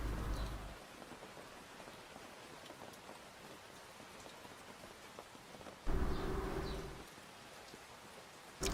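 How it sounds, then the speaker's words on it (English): Steady rain falling on a surface, a continuous broadband hiss with two brief louder surges, heard alone at a fairly distant, even level. "sounds like real rain. I think it's real."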